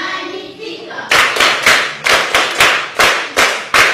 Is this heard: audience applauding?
yes